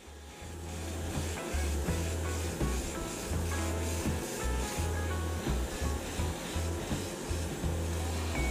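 Gray primer sprayed from a can in repeated bursts onto the plastic body of an Aoshima Lamborghini Huracan Liberty Walk scale model, a steady close hiss with pulsing low rumble and no talk.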